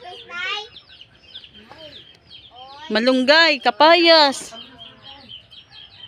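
Farmyard chickens cluck and squawk near a home garden, scattered calls followed by a loud, close burst of rapid clucking, with a person talking in between.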